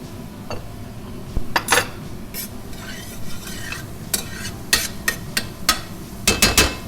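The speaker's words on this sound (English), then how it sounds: "Now let that saute for a minute," Ingredients for beef Wellington sauté in a pan, a steady close sizzle broken by the scrape and clack of a utensil stirring against the pan, several louder knocks toward the end, with no talking.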